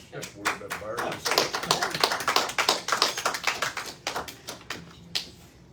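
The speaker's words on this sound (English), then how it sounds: "one more round of applause for Dan Tanner and Jackie D" A small audience applauds two performers after a Bobby Darin tribute show, with dense, close clapping that swells and then thins out toward the end; a voice can be heard underneath.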